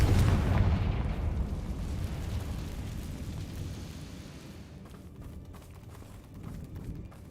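A Confringo explosion spell in the Hogwarts Legacy video game, a loud blast at the start that fades into a long, rumbling low roar with faint crackles near the end.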